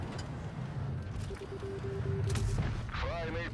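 A heavy tank cannon boom from World of Tanks Blitz, with rumbling low end, followed by whistling game effects and faint talk in the background.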